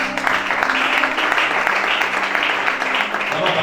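Applause from a church congregation at a worship service in Gabon, sustained steady clapping from a crowd filling the room, fairly loud throughout.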